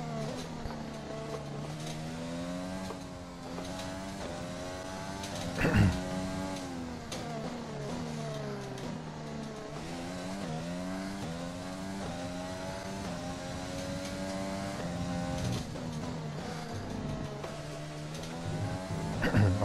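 An F1 2020 race car in a video game accelerating at full throttle, its high-pitched engine wailing up through rising gears with quick shift dips and one brief louder burst, steady and continuous.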